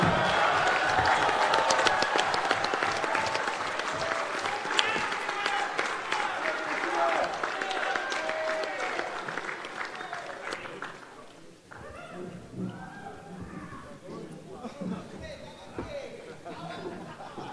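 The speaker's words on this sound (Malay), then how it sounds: "beri tepukan gemuruh kepada Datuk Seri Azmin Ali" Delegates at a Bersatu and Perikatan Nasional party assembly rise to give Datuk Seri Azmin Ali a thunderous standing ovation, dense clapping and cheering mixed with crowd voices for about eleven seconds, then thinning into scattered sound and talk.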